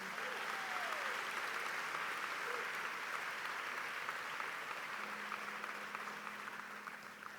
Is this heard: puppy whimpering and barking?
no